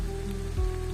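Steady rain patters on a hard surface close by, with a low engine rumble underneath.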